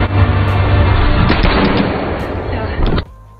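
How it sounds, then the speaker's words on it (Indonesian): A gunfire exchange from a yakuza action film, dense continuous loud blasts and booming shots layered over a roaring low rumble, sustained for about three seconds before cutting off abruptly. "mereka saling melepaskan tembakan"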